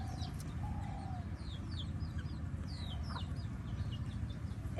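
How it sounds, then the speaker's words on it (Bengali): Domestic native ducks held in a village setting before being cooked, giving scattered short calls and chirps over a steady low outdoor rumble throughout. "দেখুন কত সুন্দর দুইটা হাঁস নিয়ে নানি বসে গেছে।"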